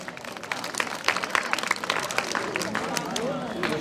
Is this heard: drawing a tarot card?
no